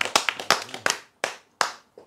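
Several bursts of hand clapping from an audience at a religious lecture, arriving in short, uneven groups with brief pauses between them, fairly close and with no talking.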